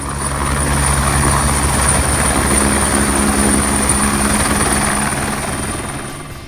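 Loud, continuous Liberty Helicopters tour helicopter rotor and engine drone over New York City, steady throughout and easing slightly at the end.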